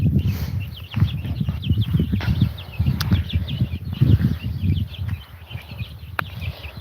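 Young chicks peep in quick, repeated high chirps, close by and continuous, over low scuffling and rustling movement nearby, with no voices.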